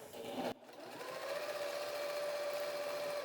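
A sewing machine runs steadily while free-motion quilting a meandering stitch off the edge of a quilt, a quiet continuous mechanical whir with a short pause near the start before it resumes.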